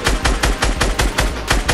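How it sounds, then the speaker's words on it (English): Rapid bursts of gunfire in Fortnite Battle Royale, a fast rhythmic volley of about eight sharp shots, loud and close with no talk over it. "They're getting shot."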